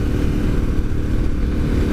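A Honda VTR 1000 SP1 V-twin motorcycle engine drones loud and steady while riding, a constant deep throbbing rumble mixed with wind buffeting and no voices.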